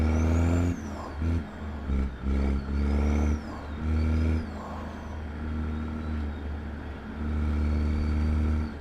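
Peterbilt 389 custom truck in American Truck Simulator pulling away, a deep diesel engine revving through gear changes with rising and falling drone and brief pauses, loud and close, with no talk.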